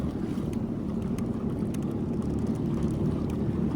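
A Yamaha JetBlaster personal watercraft rides out on open water, with a dense, steady low engine roar and rushing wind buffeting the microphone throughout, close and continuous with no talk.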